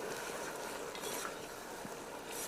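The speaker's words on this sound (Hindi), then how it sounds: "इस तरह से थोड़ा सा भूनना है, थोड़ा सा भून लीजिएगा ताकि ये जो मसाले हमने डाले हैं वो अच्छी तरह से भून जाए" Whole spices and coriander seeds roasting in a pan make a quiet, steady crackle with soft stirring scrapes throughout.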